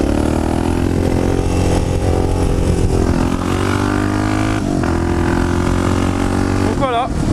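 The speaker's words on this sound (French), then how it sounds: "Première, deuxième, troisième. Hop, embrayage et c'est parti." A Suzuki DR 650 supermotard motorcycle engine pulls loud and close through first, second and third gear, the pitch rising and dropping at each shift, with a clutch-up surge near the end and a voice over the top.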